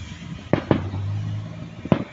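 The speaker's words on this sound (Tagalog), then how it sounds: "Hindi lang New Year ang may fireworks dito," Fireworks at a barangay fiesta for San Vicente in Palo Alto, Philippines: three sharp, loud bangs, two in quick succession and one a second later, over a low background hum.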